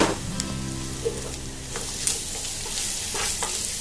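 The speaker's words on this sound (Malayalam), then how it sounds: "ഈ പൊടികളുടെ പച്ച മണം മാറി വരുന്നവരെ ഒന്ന് വഴറ്റി കൊടുക്കാം" Onions sautéed with chili and coriander powder in a pan on medium flame give a steady, close sizzle throughout, with occasional scraping stirs.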